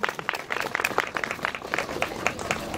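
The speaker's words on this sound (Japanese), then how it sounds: "拍手。" A small outdoor crowd at a Nagoya samurai warrior troupe performance gives scattered, distinct hand claps, fairly close and uneven in rhythm, continuing for a few seconds.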